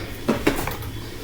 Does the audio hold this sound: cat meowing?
no